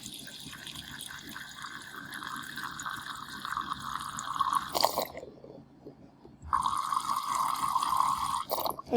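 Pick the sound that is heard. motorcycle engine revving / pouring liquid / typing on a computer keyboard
pouring liquid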